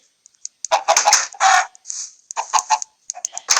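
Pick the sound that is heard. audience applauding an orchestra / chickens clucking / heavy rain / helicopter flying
chickens clucking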